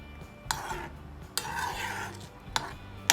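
Kurukku kaalan curry, thick with curd, being stirred in a pot, with a spoon scraping and clinking against the metal in a few distinct strokes over a low background.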